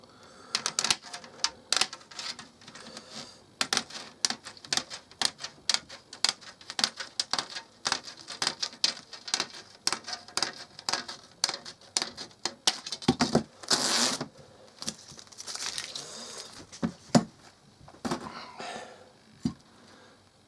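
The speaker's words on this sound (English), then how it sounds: "Then we get a pair of our tin snips, and we'll just cut alongside that." Tin snips cut through wire mesh for a basket in a long series of sharp, close metallic snips and clicks in an irregular rhythm, with brief scraping and rustling of the mesh between cuts.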